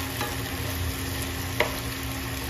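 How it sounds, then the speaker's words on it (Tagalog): Bitter gourd and tomatoes stirred in a hot pan, a steady close sizzle with faint scraping of the spoon, one brief sharper clink near the end, no voices. "Wala tayong gagawin dito kundi maghalo lang ang maghalo."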